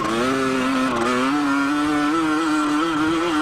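An MX-100 motorcycle at an AHRMA vintage race revs hard and continuously, its engine note climbing and wavering as it is pushed to the limit, loud and close with no pauses for the full stretch.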